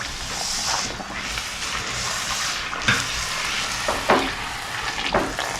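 Gol gappa puris, some made with semolina and some white, frying and puffing up in hot oil, a steady close sizzle with occasional stirring scrapes and light splashes.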